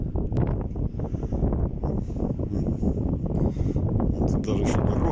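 Wind buffets the microphone outdoors in a steady, loud rush, mostly low and rumbling, with brief gusts and light rustling running all the way through.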